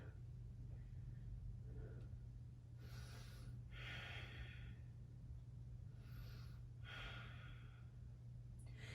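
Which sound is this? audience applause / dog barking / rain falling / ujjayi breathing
ujjayi breathing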